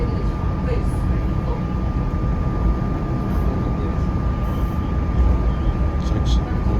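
A Norfolk Southern freight train with an AC44C6M locomotive as distributed power rumbles past nearby, a loud steady roar of wheels and engine throughout with a faint high whine.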